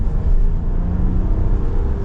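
A new 2025 RAM 1500 Big Horn Quad Cab 4X4 pickup with very few miles pulls on its engine under throttle near 4,000 RPM during a test drive, a loud steady low rumble heard from inside the cab with no talking.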